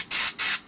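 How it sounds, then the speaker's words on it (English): Airbrush spraying paint onto a ripstick foil makes two short, close bursts of airy hiss, each lasting about a fifth of a second. "I'll add that into the airbrush, give it a bit of a whisk, just check."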